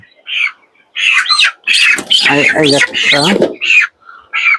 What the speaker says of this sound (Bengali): আমরা কয়েকটা বড় মুরগি ধরছি